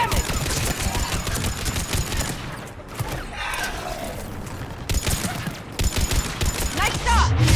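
Mass Effect 3 gunfire rattles in dense, continuous bursts during a battle on Thessia, loud and close, easing briefly mid-way before picking up again, with voices and game effects mixed in.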